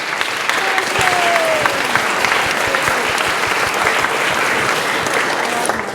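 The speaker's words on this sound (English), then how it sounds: "Another big round of applause for your amazing teacher leaders who are here voluntarily." Sustained audience applause honoring volunteer teacher leaders at a technology leadership summit, a dense, steady wash of clapping from a large crowd lasting throughout.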